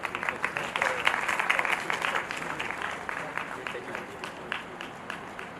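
An audience at a fashion and AI conference valediction ceremony applauds certificate recipients, dense clapping that swells in the first seconds and then gradually thins and fades, with a few scattered claps at the end.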